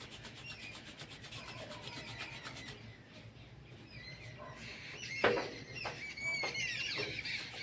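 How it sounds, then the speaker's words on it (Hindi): Hands rubbed together vigorously in a meditation exercise: a steady, close dry friction sound with fast repeated strokes, then fainter rustling and a few sharper scrapes near the end. "ऐसे पूरी तरह से 2-3 बार रगड़े"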